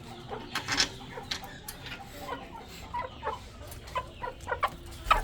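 A rooster and hens cluck in scattered short bursts close by, a steady run of clucks with no talking.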